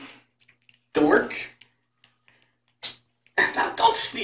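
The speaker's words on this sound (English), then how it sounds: "Don't sneeze on my foot." A kitten sneezes twice, short and sharp, close and fairly loud, separated by a quiet pause with faint small noises in between.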